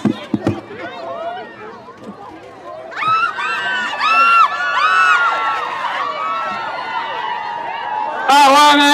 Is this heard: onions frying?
no